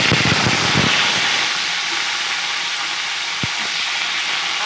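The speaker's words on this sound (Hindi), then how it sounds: "अब हम इसी तेल में ही आलू फ्राई कर लेंगे।" Potato pieces fry in hot oil in a kadhai, giving a loud, steady sizzling hiss that bursts strongly at first and then settles, with no voices.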